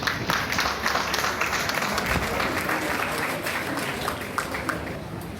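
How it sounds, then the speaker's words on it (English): An audience at a celebration party for a newly named professor gives a round of applause, a loud, dense, sustained clapping that holds steady and eases slightly toward the end. "Let's give him a round of applause."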